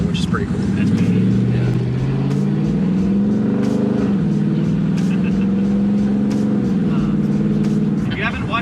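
A 2018 Dodge Challenger gas engine idling nearby with a steady, deep rumble and slight swells, while people talk over it.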